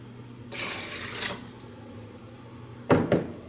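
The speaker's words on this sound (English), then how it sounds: "I'm going to add 2 more cups of warm water." Warm water poured into a foot soak basin in a broad rushing burst, then a brief pause before two short splashy pours close by.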